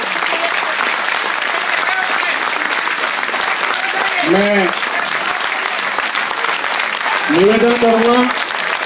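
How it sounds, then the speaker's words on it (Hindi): Loud, dense applause fills a welcome ceremony for successful IAS candidates, continuing unbroken throughout while someone speaks briefly over the clapping twice. "जोरदार तालियां बजाइए।"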